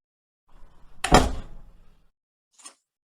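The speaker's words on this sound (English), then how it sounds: "I'll close the door." A door swings shut with a single solid thud in an old-time radio drama, followed by a faint brief click; quiet otherwise.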